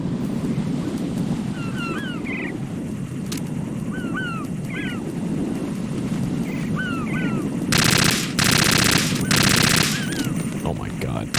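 AK rifle in Metal Gear Solid 2, two loud bursts of automatic fire late in the clip over steady wind-like ambience, with electronic chirps and beeps scattered throughout.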